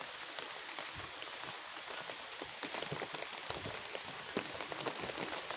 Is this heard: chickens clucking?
no